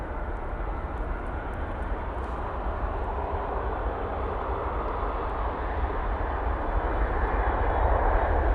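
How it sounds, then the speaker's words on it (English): An Etihad Boeing 777-300ER arriving at Manchester Airport from Abu Dhabi gives a steady, broad jet roar that builds slightly louder near the end, deep rumble underneath and no voices. "For the Etihad 777-300ER now coming in from Abu Dhabi."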